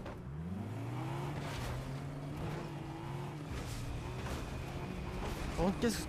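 Video game cars drive around a Simpsons-themed map, their engines whining and revving with rising and falling pitch, under steady talk from players.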